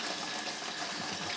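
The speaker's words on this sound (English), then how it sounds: "scrubbing something with soap" Running tap water pours steadily while dishes are washed and scrubbed with soap at a sink, a continuous close rushing splash with no voices.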